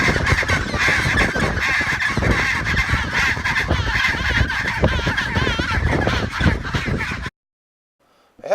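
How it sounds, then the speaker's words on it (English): Dense braying and honking of a penguin colony in Antarctica, many birds calling at once close by for several seconds before cutting to silence. "you can walk right up to a penguin colony and watch the penguins rearranging the pebbles in their nests and strutting around"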